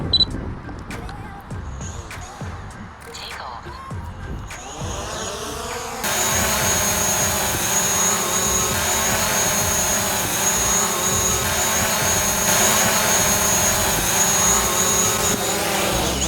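A DJI Mavic Pro drone starts up amid soft handling clicks, then its propellers spin up abruptly into a loud, steady whine that holds close and constant through the rest, no voices heard.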